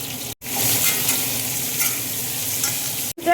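Pointed gourd frying in oil tempered with cumin, dried red chilli and garam masala, giving a steady close hiss of sizzling broken by two brief gaps.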